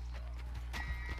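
Horse hooves clip-clopping in a Wild West video game, a quick run of soft hoof beats over a steady low hum of game audio.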